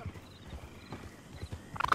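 Horse hooves clip-clop in the Red Dead Redemption 2 video game, a faint irregular run of soft thuds, with a few brighter clicks near the end.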